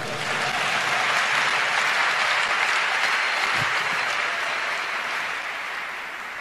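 A church congregation in Brazzaville breaks into sustained, loud applause acclaiming the Lord, a dense wash of clapping that holds steady for several seconds before easing slightly.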